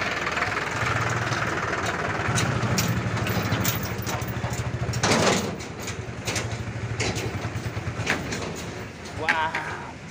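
A motorcycle engine running after refuelling on a village road, a low steady putter with rough knocking pulses, heard close under a voice that talks over much of it.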